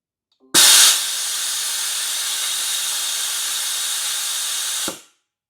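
An automatic air compressor drain kit purges the compressor tank with one loud, steady blast of hissing air that starts abruptly, holds for about four seconds, then cuts off, with no talking.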